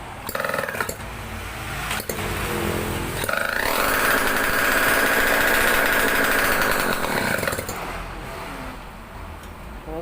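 A Suzuki A80 motorcycle engine with no exhaust pipe roars steadily for several seconds, loud, harsh and unmuffled, then drops back to a rough idle.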